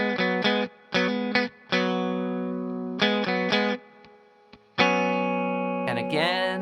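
An electric guitar plays a choppy riff, short, punchy chords separated by brief gaps, then sustained notes and a final bending slide.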